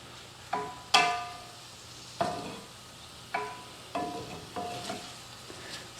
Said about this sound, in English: You just stir this around, let that butter melt